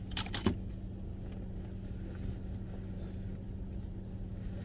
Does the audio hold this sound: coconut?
no